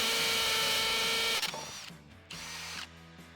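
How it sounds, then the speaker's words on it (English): A Milwaukee M18 FUEL Gen3 hammer drill runs loud and steady for about a second and a half, then cuts out, followed by two shorter, quieter bursts of the motor and its rattle. "There's a hammer drill"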